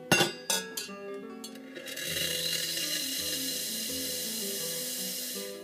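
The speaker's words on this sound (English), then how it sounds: "I normally just release a little bit of steam before I pull the first cup" Steam hissing from a La Pavoni Piccolo espresso machine, starting with a few metallic clinks and taps before a loud, steady jet of steam rushes out and holds continuously.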